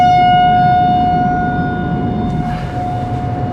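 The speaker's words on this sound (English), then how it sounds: "It's actually a tornado siren." A tornado siren under test in Indiana in December, heard from a gas station, wailing loud and steady as a sustained tone that slowly fades a little, with traffic-like rumble beneath and no talk.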